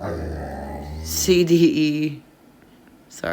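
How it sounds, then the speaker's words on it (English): A dog growls in a short harsh burst in the middle of a recorded geometry test review lesson, loud and close, with someone talking before it and a clipped sound at the end. "that's my dog."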